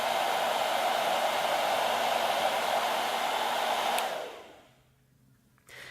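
A hair dryer blows a steady, loud stream of air to keep a ball levitating, a continuous rushing whoosh that cuts off after about four seconds, leaving faint room hum.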